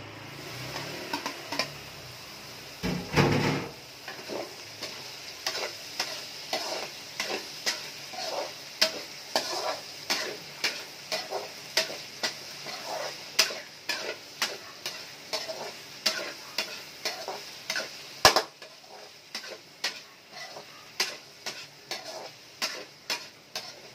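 Shiitake and button mushrooms stir-fried for pancit canton, with a steady sizzle under a long run of regular scraping, tapping utensil strokes, close and fairly loud, with no talking.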